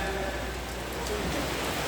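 Rain falling outdoors during a Maulid Nabi religious gathering in Indonesia, a dense, even hiss of drops hitting surfaces that holds steady and fairly loud, with a low hum underneath.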